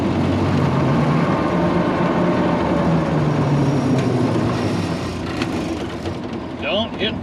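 A 1929 Ford Model A (AA) truck, long idle for over 35 years, crawls along in low gear with a steady, loud engine rumble and drivetrain noise throughout, ending in a few squeaks and clunks.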